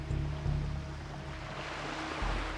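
Steady water waves lapping at the shore in the World of Warcraft video game, a soft continuous surf wash with low rolling rumble, heard alone.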